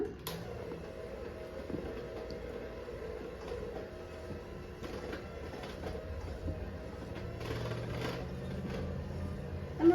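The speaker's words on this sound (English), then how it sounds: "And mix again." Gingerbread cookie dough is mixed by machine, a steady low mechanical hum and rumble with soft thumps, continuous and moderately quiet, with no voice.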